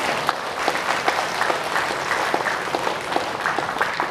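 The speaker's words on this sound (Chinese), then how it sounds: "鼓掌啊！" An audience at a Buddhist dharma talk during a seven-day Buddha-recitation retreat breaks into warm, sustained applause, a dense crowd of many hands clapping steadily throughout, with no speech over it.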